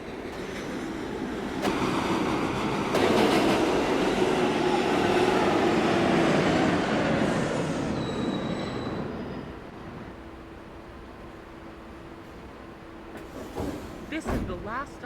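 NYC Subway train arriving at Grand Central, a loud rushing roar that builds and then fades, followed by quieter platform ambience with a brief sharp screech near the end; talk is heard.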